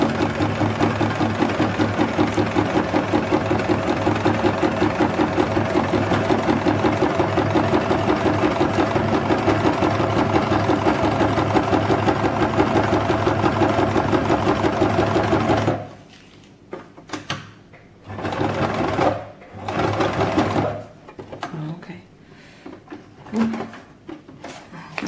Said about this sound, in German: Das war es eigentlich schon mit dem Nähen.